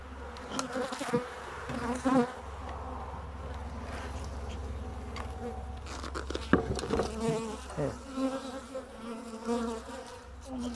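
Honey bees buzzing around an open hive during an autumn inspection, a steady close drone with shifting pitch and occasional louder passes, with faint handling noises and no talk.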